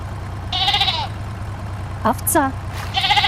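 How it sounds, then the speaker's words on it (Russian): A sheep bleats three times, each a wavering, quavering cry, close and clear against a steady low background hum. "Овца."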